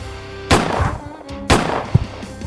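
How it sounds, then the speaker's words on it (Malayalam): Two sharp, loud gunshot sound effects in a dramatized reel, each a sudden blast with a decaying tail, spaced about a second apart, with no talk. "തൻ്റെ അയൽവാസിയായ മുഹമ്മദ് കുട്ടിയെ വെടിവെച്ചു കൊന്നു"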